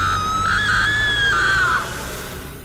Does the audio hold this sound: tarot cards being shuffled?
no